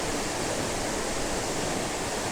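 Kitekite Falls waterfall roaring in a steady, dense rush of falling water, loud and unbroken throughout with no voices.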